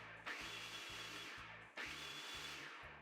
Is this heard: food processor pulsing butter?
yes